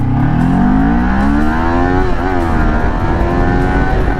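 A Kawasaki Ninja 400 motorcycle accelerates hard in a 0 to 60 run, its engine note climbing in pitch, dropping briefly at a gear shift, then rising again, loud and close with wind roar throughout.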